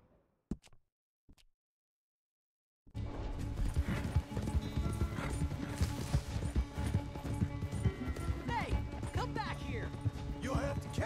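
Hooves of a horse galloping in Red Dead Redemption 2 pound out a steady, loud clip-clop rhythm with game noise, following a few sharp clicks and a brief silence; people talk over it.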